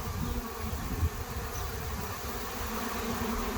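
A swarm of honeybees drones in a continuous steady buzz while being caught with a Russian Scion hive, a dense hum outdoors under wind noise, with no talking.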